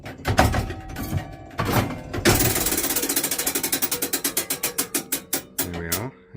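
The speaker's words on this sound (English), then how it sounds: "you've seen the chiming mechanism in action for the 1/4 strike" Church clock chiming mechanism at St Mary the Virgin, Wanstead, striking the quarter hour: clunks and grinding gears up close, then a steady run of rapid ratcheting clicks and loud metallic strikes that end in a final clank.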